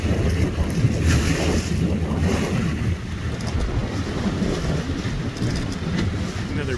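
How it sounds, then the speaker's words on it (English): A trawler passes on the Intracoastal Waterway beside a slow shanty boat, its steady engine and wash blending with wind buffeting the microphone and water noise, continuous and fairly loud with no talk. "Another beautiful trawler passing us."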